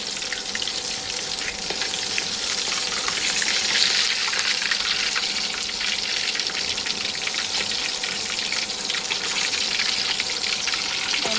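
Fish frying in a pan, part of a spicy radish-and-fish dish, giving a loud, steady hiss and crackle of hot oil that runs unbroken throughout, close up with no voices.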